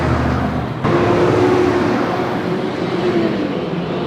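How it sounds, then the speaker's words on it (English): A garbage truck rumbles past outside in a steady, loud, broadband roar with a low engine hum and a faint whine, filling the whole stretch with no talking. "Goddamn trash truck!"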